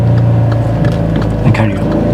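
A car engine cranks and fires up with the key turned and clutch held down, a steady close idle rumble settling under faint background noise.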